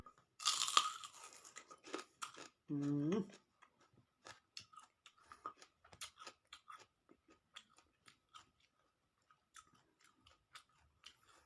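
Crunchy steamed squid tentacles dipped in seafood sauce are chewed close up, with a run of crisp, irregular crunching bites and a brief hummed voice sound early on.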